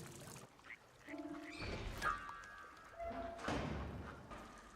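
Ducks quacking in a drama series scene from The Last of Us, several short nasal calls scattered amid ambient thumps and background sound, moderately close.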